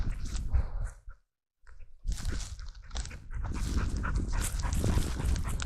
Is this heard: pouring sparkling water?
no